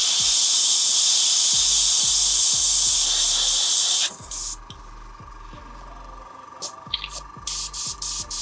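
An airbrush sprays primer onto a miniature with a loud, continuous hiss for about four seconds, then stops; short bursts of spray and a rhythmic compressor-like pulsing follow at a lower level.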